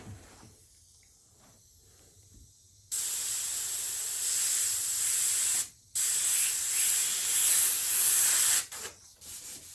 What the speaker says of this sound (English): test my spray over the side here, make sure it's airbrushed spraying like I like